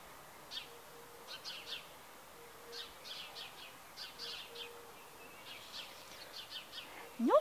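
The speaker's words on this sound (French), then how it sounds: "Les petits oiseaux." Small birds call outdoors in faint, scattered bursts of high chirps and twitters, coming and going over a quiet background hiss, with a louder sound right at the end.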